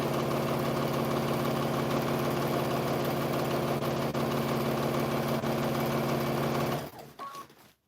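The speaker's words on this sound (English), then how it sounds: "I am sewing those together" A sewing machine runs steadily for nearly seven seconds, stitching strips of quilt fabric together for a scrappy Thanksgiving table runner, its motor hum loud and close before it stops abruptly and leaves a few faint clicks.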